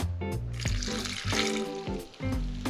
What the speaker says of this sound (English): And lastly, we'll pour in 50 milliliters of water.